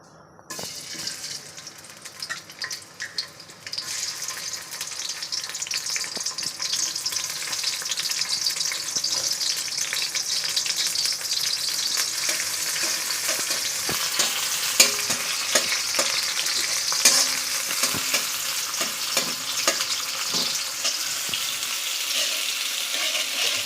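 Onions and small fish frying together in hot oil produce a dense, continuous bright sizzle, loud and close, with faint clatter and no speech throughout.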